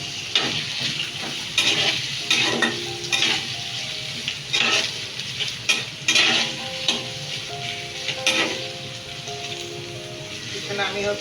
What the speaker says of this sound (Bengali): এখানে আমি 5টা শিং মাছ সুন্দর করে ধুয়ে ভেজে রাখছি, হালকা হালকা ভাজছি